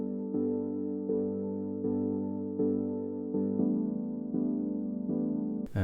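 Sustained synth pad chords from a dance remix, rich layered tones changing every second or so in a steady progression, played alone and fairly quiet.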